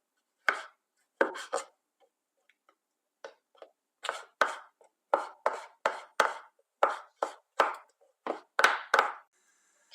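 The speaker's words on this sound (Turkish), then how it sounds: "Şimdi iki adet domatesimi de ufak ufak doğruyorum." A knife chops two tomatoes into small pieces on a cutting board, giving a close, crisp series of rhythmic chops in short bursts with brief pauses between them.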